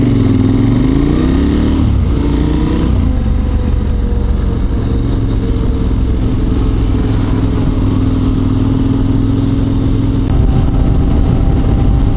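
Yamaha R3 motorcycle ridden on the road, its engine revving up and shifting through gears at first, then droning steadily and loud with wind noise and mechanical clatter, no talking.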